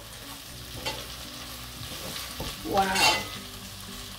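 Celery and other vegetables fry for vegan Ghanaian jollof rice, a soft continuous sizzle broken by a few stirring scrapes and one louder burst near the end, with a brief spoken exclamation.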